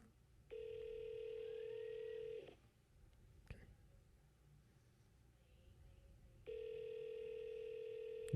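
A telephone rings unanswered in an office, with two long electronic ring bursts separated by a few seconds of quiet and a brief clatter between them.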